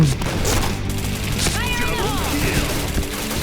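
Gunfire rattles in bursts during an online first-person shooter match, with rapid shots and booming game effects close and loud over a steady background.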